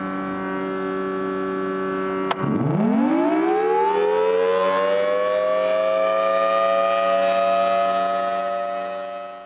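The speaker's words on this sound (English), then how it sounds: "we can actually make the siren go around like this also" A Thunderbolt civil defense siren at the Titan Missile Museum rotates as it winds up from a low growl to a loud, sustained multi-tone wail, holding steady and strong throughout.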